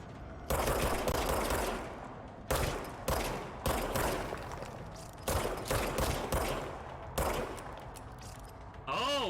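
Service weapon blind firing in the video game Control, loud close bursts of rapid gunfire in repeated volleys with short pauses between, ending in a ringing electronic whine.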